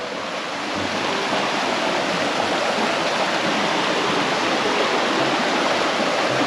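Steady, dense roar of a waterfall at a Chiang Mai attraction, loud and continuous throughout with no talk, a constant broadband rush of falling water.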